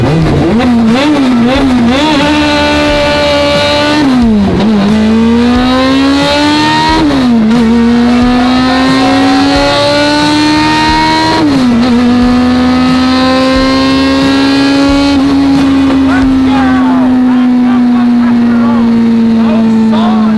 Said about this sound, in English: That was a solid burnout.